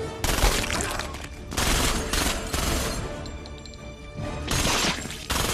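Heavy, rapid gunfire from the Punisher: War Zone video game, a dense, sustained fusillade of automatic bursts with crashing impacts, loud and continuous across the whole stretch, no talking.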